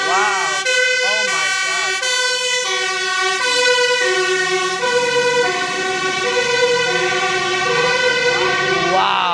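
A loud emergency vehicle siren wails close by on a street in Rotterdam, its rising and falling tones steady and dominant throughout as it passes.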